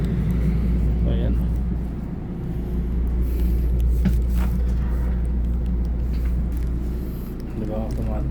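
Steady low rumble inside a moving Taiwanese passenger train, heard from car 9 while walking through the carriages, continuous and loud with a voice talking over it.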